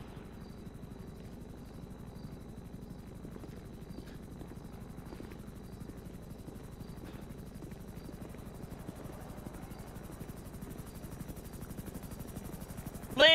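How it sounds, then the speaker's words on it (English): A helicopter's rotor chops faintly and steadily in the background of the video game GTA, a low thrumming that continues for the whole stretch with no voices. "Land this fucking helicopter!"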